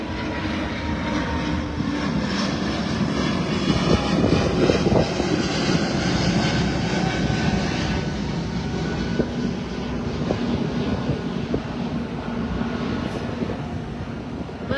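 A loud, steady drone of a running airplane engine, a constant roar with a rumbling low end throughout, no talking.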